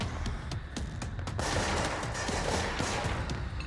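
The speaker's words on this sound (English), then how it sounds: "Got those other guys to contend with that are shooting us" Enemy gunfire in the video game Control: rapid bursts of shots crackle at moderate distance, dense and continuous through the middle, with sharper isolated cracks at the start.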